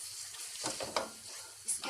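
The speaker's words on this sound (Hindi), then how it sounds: "अब हम इसको अच्छी तरह से इसमें भूनेंगे।" Beef and softened onions frying in a karahi, a light sizzle broken by a few scraping stirs and clinks of a utensil against the metal, close by.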